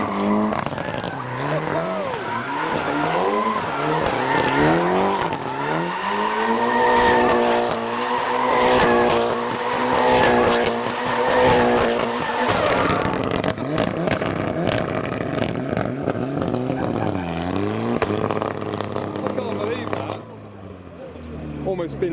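Drifting car engines, including a Swift's, rev and wail continuously, pitch rising and falling through gear changes, with tire squeal and skidding mixed in.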